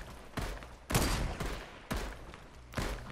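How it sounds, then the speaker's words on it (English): Several bursts of gunfire in the Fortnite video game (OG zero-build duos match), arriving as four or five broadband volleys at a steady pace, moderately distant and fairly quiet, with no talk over them. "They're shooting at me"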